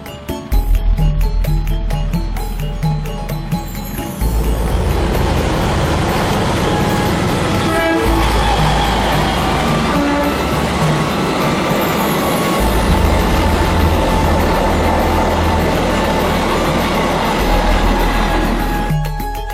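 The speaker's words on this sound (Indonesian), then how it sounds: "saya melihat kereta api Logawa yang menggunakan rangkaian stainless steel terbaru" Logawa train made up of new stainless steel carriages rolling past loud and close, with a steady rumble, wheels clattering over rail joints and short horn toots near the start.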